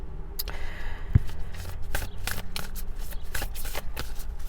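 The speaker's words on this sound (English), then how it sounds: "When I was shuffling the tarot," Tarot cards are shuffled and riffled in soft, repeated flicking bursts, close up and fairly quiet, with a single light tap partway through.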